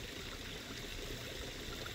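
Small garden waterfall among flowers such as portulaca, giving a soft, steady trickling and splashing hiss, faint but continuous, with no one talking.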